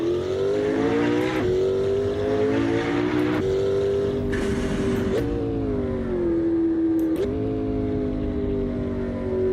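A turbocharged car engine in the Assetto Corsa racing game drones loudly and continuously, rising and dipping in pitch through repeated gear shifts, with short sharp blips between gears and no voices.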